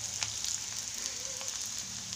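Chopped onions fry in a pan for baingan bharta until light brown, giving a soft, even sizzle that stays faint and constant throughout.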